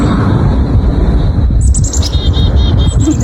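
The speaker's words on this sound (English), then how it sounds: "birds are still chirping" Birds chirp outdoors in a snowy Canadian winter, bright repeated tweets rising clearly over strong wind and rumbling background noise in the second half.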